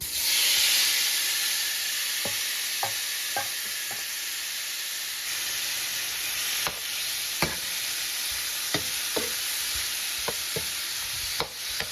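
Shrimp fry in olive oil in a pan, giving a steady close sizzle and hiss broken by occasional light clicks and taps from stirring.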